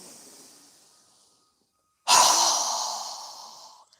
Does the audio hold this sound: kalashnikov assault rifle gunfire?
no